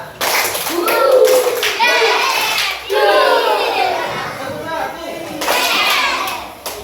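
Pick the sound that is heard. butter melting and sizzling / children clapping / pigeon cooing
children clapping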